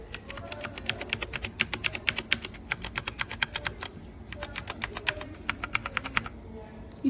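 Brown-switch keys on a compact DIERYA T68SE 60% mechanical keyboard clatter in quick, uneven bursts of close, crisp clicks, with a brief pause midway before the typing resumes.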